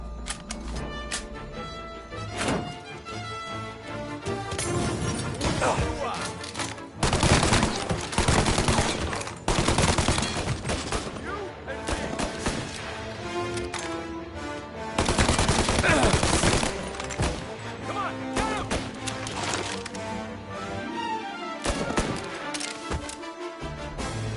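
Dense gunfire in the Mafia video game: bursts of automatic fire and rapid shots ring out loud and nearly continuous, swelling into heavy volleys at several points.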